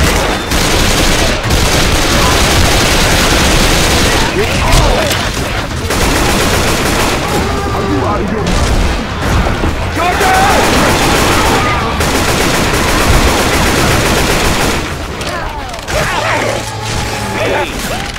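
Sustained AK rifle fire in Left 4 Dead 2 on the Cold Stream campaign, loud rapid automatic bursts mixed with reload clicks and mechanical clatter, continuous and close throughout.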